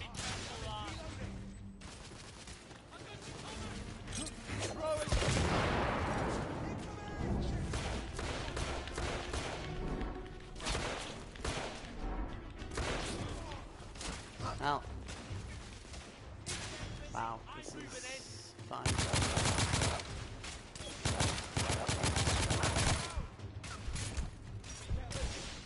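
Gunfire in the video game 1886: sustained volleys and rapid shots crackle almost without pause, dense and loud, with bursts swelling and easing across a battle scene.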